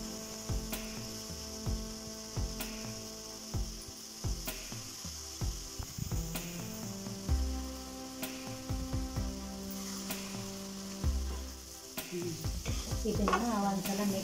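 A spatula scrapes and knocks rhythmically against a pan as okra palya fries, with repeated stirring strokes over a low hum and steady sizzle, close up and with no speech.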